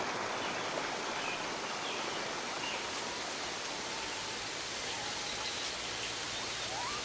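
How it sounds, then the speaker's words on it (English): Steady broadband hiss of waterfall spray falling near a waterhole, constant and close throughout with no other sounds. "Spray from the waterfall"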